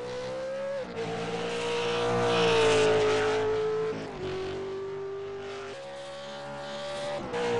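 V8 Supercars race cars in a sim racing game qualifying session at Interlagos, with a loud engine note rising through the gears, dropping at each shift and climbing again, close and continuous with no talk over it.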